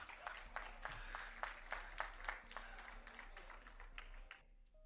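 An audience at a spiritual motivational talk breaks into fairly quiet, steady clapping lasting several seconds, and the clapping stops abruptly at the end.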